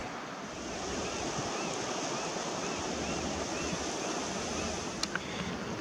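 A river that has dropped, leaving a small cut-off pool, its water rushing in a steady broad wash outdoors, loud and continuous with a couple of faint clicks near the end and no talk.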